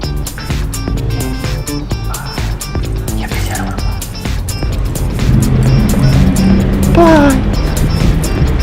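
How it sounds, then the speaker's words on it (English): Car interior as the vehicle pulls away and drives, a low engine rumble building and rising in pitch near the end, with clicks and handling noises over it and a voice briefly talking. "I'm gonna drive home now"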